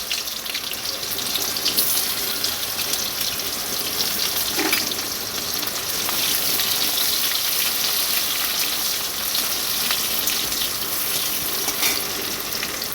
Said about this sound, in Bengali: কড়াইতে কালো জিরে জিরে তেজপাতা ফোড়ন দিয়ে পেঁয়াজগুলো ভেজে নেব